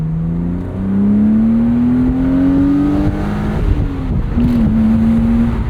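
A manual enthusiast sports car accelerates hard, its loud, close engine note climbing steadily in pitch through a gear, then dipping briefly and pulling again. The engine sounds alone, with no talking.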